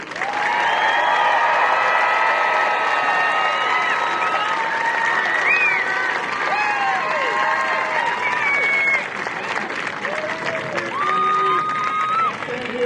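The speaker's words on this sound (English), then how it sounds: "giving these 579 graduates from the 323rd Training Squadron a round of applause" A large crowd applauds steadily for several seconds at a US Air Force basic military training graduation, dense clapping with a few cheers and whistles rising over it.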